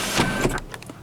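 Electric sunroof motor in a 2000 Acura TL whirring as the roof closes, a steady close hum for about half a second followed by a few fainter clicks and short mechanical taps as it stops.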